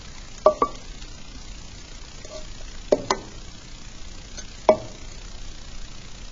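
A cylinder model being cut lengthwise, with three short clusters of sharp taps and knocks at spaced intervals over faint background noise.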